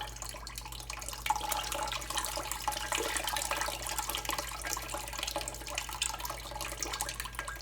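Soup liquid pours steadily through a strainer, a continuous close splashing trickle that runs without a break from start to finish.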